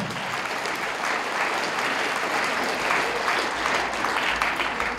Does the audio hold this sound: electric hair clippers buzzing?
no